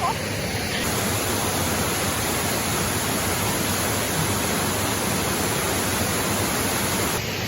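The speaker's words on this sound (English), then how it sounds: "we're stopped here at the waterfall" A waterfall on the Mill Creek trail in Virginia pours out a loud, unbroken roar of rushing water heard up close, with no speech over it.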